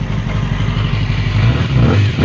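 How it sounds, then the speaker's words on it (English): A rebuilt third-generation Yamaha R6 motorcycle engine runs close by at a steady, loud idle with a rough, throbbing low rumble and slight revving, with no talk over it. "We got a good running bike."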